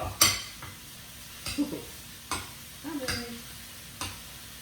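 A spoon stirs chicken chop suey in an oyster sauce marinade, giving five sharp scraping clinks against the pan at roughly even intervals with soft wet shuffling between them and a quiet background, and no talking.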